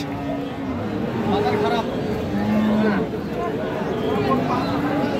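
Cattle at a rain-muddied livestock market, Friesian and crossbred bull calves, with a few low moos rising over constant crowd chatter and nearby voices.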